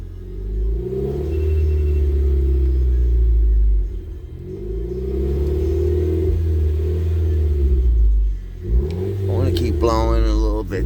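A car engine idles and revs steadily during a valve cleaner treatment, rising and easing in long loud surges, then the throttle drops and the note falls away near the end.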